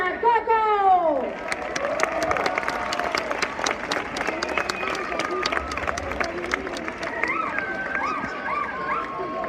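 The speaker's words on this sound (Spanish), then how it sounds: "Recibamos con un fuerte aplauso al alumnado de tercero de infantil" An audience in a school end-of-year festival hall applauds kindergarten pupils, a dense sustained wash of many hands clapping with crowd murmur and some voices mixed in, preceded by a brief descending tone.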